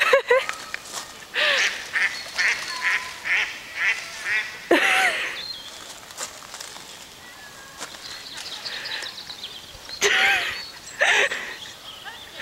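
Ducks quacking outdoors while a dog goes after them, scattered bursts of quacking, some near and some farther off, over a rough background hiss.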